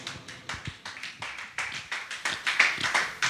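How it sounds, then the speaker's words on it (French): A church congregation claps in unison during a French-language sermon, about a dozen sharp rhythmic claps, fairly quiet and slightly roomy, with no talk over them. "Applaudissons la parole de Dieu."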